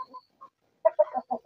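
A chicken clucks close by, a few soft isolated clucks followed by a quick run of louder, throaty clucks.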